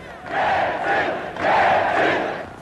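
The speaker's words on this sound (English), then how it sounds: "Tens of thousands filled Leningrad's Palace Square to demonstrate against the coup and cheer their republic leader, Boris Yeltsin." A huge crowd of tens of thousands demonstrates in Leningrad's Palace Square against the 1991 coup, roaring and chanting in two long rising swells, dense and distant-sounding.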